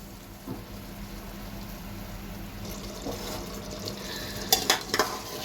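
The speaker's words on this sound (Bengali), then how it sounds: "এটাকে একটু আরেকটু নাড়িয়ে দিচ্ছি" Potatoes with tomato and ginger being stirred and sautéed in a pan: a steady low sizzle with soft scraping, then a few sharper utensil clinks against the pan near the end.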